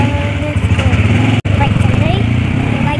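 A motorbike engine runs close by with a steady, pulsing chug and a brief cut midway, loud and continuous, while voices speak over it.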